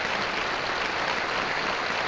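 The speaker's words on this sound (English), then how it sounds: "Look at him clapping." Crowd applause from the Wheel of Fortune game on Nintendo 64, a dense, steady wash of clapping filling the whole moment at even loudness.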